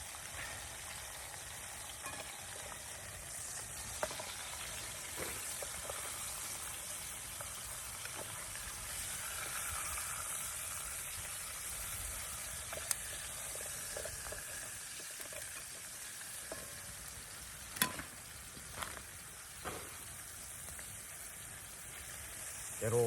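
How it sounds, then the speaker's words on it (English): Bacon for Staffordshire oatcakes with cheese and tomato sizzles steadily in a pan, a broad continuous hiss with occasional sharper pops and faint utensil clicks, close and moderately loud. "Get all the bacon in."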